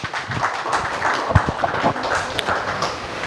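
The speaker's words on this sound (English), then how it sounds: "A huge round of applause for everybody for sir" Audience applause welcoming the Vice Chairman at an inaugural session of a faculty development programme, a dense steady patter of many hands clapping at moderate level throughout, with a few sharper taps standing out.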